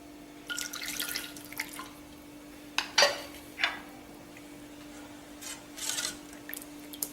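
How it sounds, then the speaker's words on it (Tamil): Water pours and drips into broken wheat rava dosa batter in short, faint splashes and trickles, with a steady low hum running underneath. "இன்னும் கூட கொஞ்சம் தண்ணி ஊற்றிக்கும்."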